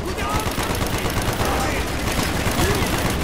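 Rapid, dense gunfire from the video game Call of Duty Black Ops, with sustained loud bursts of automatic fire that overlap without pause.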